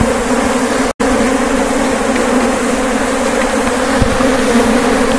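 Angry honeybees in a colony recently transferred from a termite mound, buzzing loudly and steadily throughout a hive inspection, a dense close swarm drone with a brief dropout near the start.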